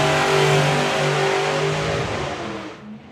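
Nostalgia drag racing car at the NSRA Nostalgia Nationals, its engine roaring loud and close with a steady harmonic drone that slowly fades as it pulls away down the strip.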